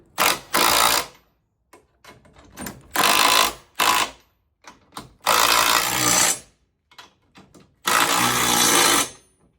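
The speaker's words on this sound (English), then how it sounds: "now I'm just gonna use my drill to basically crank it in" A power drill whines in repeated bursts, short and long, with pauses between, cranking in a Teraflex Hi-Lift jack mount, loud and close, no voices over it.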